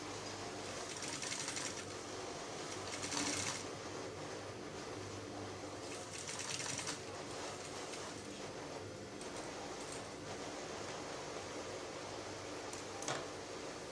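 A sewing machine stitches tulle drapes for a mermaid skirt with a basque waistline, running as a steady close mechanical whir with a few brief louder bursts, no voices.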